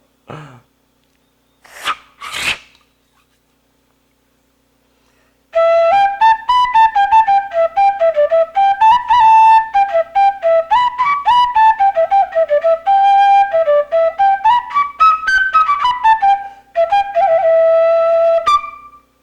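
A pífano fife plays a lively, bright melody of quick ornamented notes during a fife workshop lesson. A few short breathy noises come first, then the tune runs close and clear for most of the clip.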